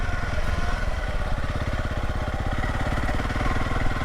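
A Honda CRF300LS dual-sport motorcycle engine running steadily up close in snowy weather, a continuous loud single-cylinder thrum with an even, rapid pulse throughout and no talk.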